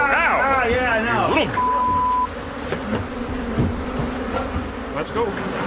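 A swarm of attacking killer bees pours from a disturbed hive, loud dense buzzing close around, with a person's voice and cries over the droning at the start.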